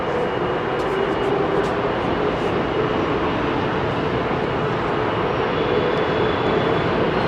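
A Boeing 787 Dreamliner departs runway 27R at London Heathrow, a broad steady jet roar heard from a distance that sustains evenly throughout.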